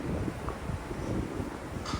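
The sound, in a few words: wind on a cruise ship's open deck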